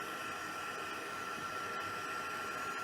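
An embossing heat gun blows concentrated hot air over paper, a loud, steady, breathy whoosh like a hair dryer that holds constant throughout without talk.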